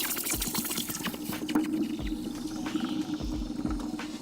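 A hot, freshly poured silver bar is plunged into water, giving a continuous bubbling hiss and gurgle with low rumbling bursts as the metal quenches, fairly quiet and steady throughout.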